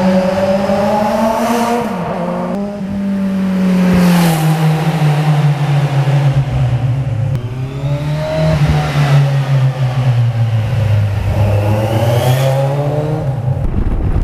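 A Kawasaki Z1000 motorcycle exhaust revs repeatedly under a bridge, loud and close, its roaring pitch rising and falling with a reverberant, echoing quality.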